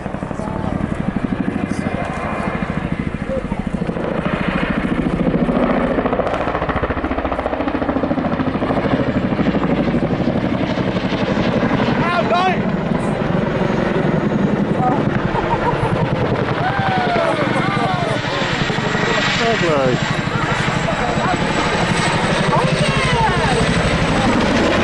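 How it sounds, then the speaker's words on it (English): A Chinook helicopter throws itself through steep nose-up and nose-down display manoeuvres at an airshow, its heavy rotor thump and turbine roar loud and continuous, with a commentator talking over it. "Charlie positions the aircraft approximately 80 degrees nose up and then 80 degrees nose down."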